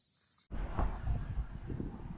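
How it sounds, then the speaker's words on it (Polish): Cicadas drone on the island of Rhodes, a dense continuous high buzzing that cuts in abruptly and then holds steady, with low rumbling noise underneath and no speech. "Takim nieodzownym dźwiękiem tutaj na tej wyspie są cykady."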